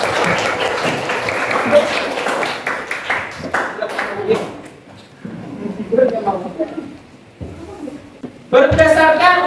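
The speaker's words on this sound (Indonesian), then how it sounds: "Tepuk tangan dulu semuanya." A classroom of students claps together: dense, loud clapping fills the first few seconds, then fades into scattered voices and a final burst of noise.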